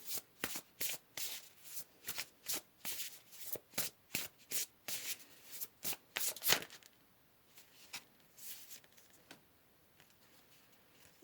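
Tarot cards are shuffled in a rapid series of crisp riffling bursts for about six seconds, then a few softer, sparser card rustles trail off, close up with no talking.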